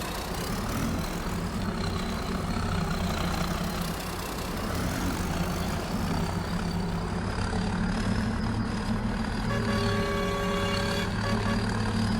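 A tractor engine from Farming Simulator 25 drones steadily with a heavy, low idling rumble and faint whining tones, continuous and fairly loud throughout.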